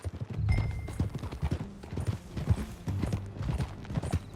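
Hooves clip-clop steadily on hard ground, an irregular run of close, overlapping footfalls with a brief whinny-like tone early on.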